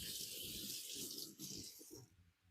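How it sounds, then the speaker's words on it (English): Vine-ripe tomatoes rinsed under a running kitchen tap, a steady close splashing rush of water that drums on the fruit and sink, easing off near the end. "So I've got some vine ripe tomatoes here. Give them a quick rinse."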